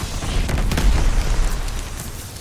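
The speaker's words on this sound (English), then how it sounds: "Throwing grenade." A grenade blast in an online shooter game, a loud rumbling boom with crackling bursts that swells over a couple of seconds and then slowly fades.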